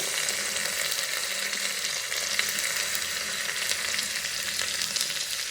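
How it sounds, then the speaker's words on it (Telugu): Chopped bottle gourd, tomato, coriander and broad beans sizzle and fry steadily in a pan, a continuous close hiss with no pauses and no talking. "అన్నీ వేసుకుని ఒక 5 నిమిషాలు ఇట్లా మగ్గనివ్వాలి"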